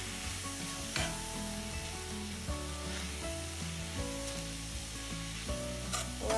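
Herbs and spices sizzle and scrape as they are stirred in a hot pan for moussaka, a steady frying hiss broken by periodic utensil strokes against the pan, close and continuous, with background music tones underneath.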